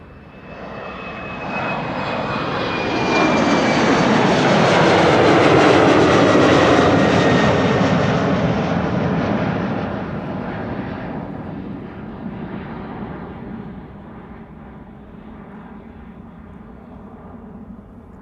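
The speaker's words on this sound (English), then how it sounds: "This is the Embraer 190 in SkyTeam livery, going to Cork in Ireland." An Embraer 190 jet in SkyTeam livery passes at Amsterdam Schiphol Airport, its engine roar swelling to a loud broad rush midway, then fading slowly into a distant rumble.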